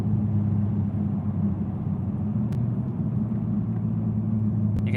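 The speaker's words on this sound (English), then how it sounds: "You can hear the engine like," A car engine rumbles steadily while driving on the road, a low constant drone with no clear revving, close and continuous.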